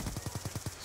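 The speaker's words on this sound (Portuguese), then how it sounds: "Dando tiro de sniper." Sniper rifle fire in the video game Black Ops 2 on the Nuketown map, heard as a close, steady burst of about six evenly spaced sharp shots with no talking.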